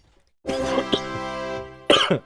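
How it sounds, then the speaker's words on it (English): A single harsh cough bursts out after a moment of quiet, followed by a second, shorter cough near the end; close and loud, no talking. "sorry for the cough"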